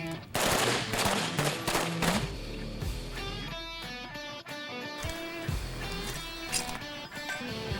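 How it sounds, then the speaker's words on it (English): Rapid gunfire from shooting drills: dense bursts of sharp shots up front, then scattered single reports and short volleys, loud and close, with no speech. "Shots from the low ready, going up, shoot from the low ready."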